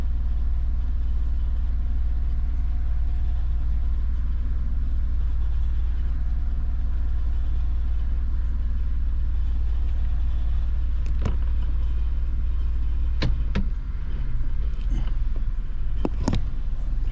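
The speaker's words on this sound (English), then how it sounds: "Got a little rattle going on. I think that's something in the exhaust." A car driving along with a suspected rattle in the exhaust, a steady loud engine and road rumble throughout, with a few sharp metallic rattling clicks near the end.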